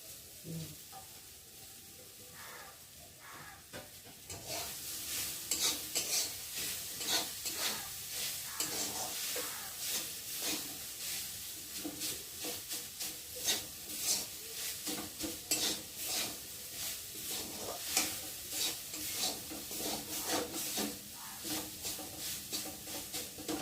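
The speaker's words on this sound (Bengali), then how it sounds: "আর এখন আমি এই যে চিড়েটাকে দিয়ে ভালো করে নেড়ে চেড়ে" Flattened rice pulao with fried capsicum and carrot stirred in a pan, a spatula scraping in quick irregular strokes over a constant loud sizzle, close and continuous with no talk.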